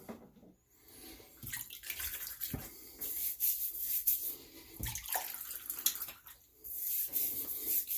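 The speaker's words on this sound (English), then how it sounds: "So I'm going to go ahead and wet the head." Running tap water splashing over a Razorock Game Changer .84 JAWS safety razor head fitted with a new Polsilver blade, a steady close hiss with brief changes as the razor moves through the stream.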